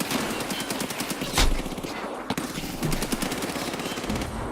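Automatic weapons fire in a shooter video game: rapid, continuous bursts of machine-gun shots with sharp individual cracks and a couple of heavier booms, loud and close throughout.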